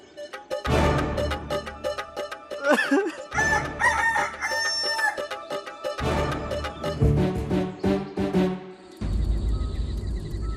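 A rooster crows loudly and repeatedly, with clucking hens and busy farmyard fowl noise filling the whole stretch.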